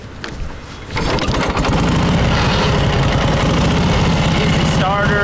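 A vintage motorcycle engine with a 6-volt charging system fires up after a brief quiet moment, then settles into a steady, loud, close idle with a fast even putter that continues to the end.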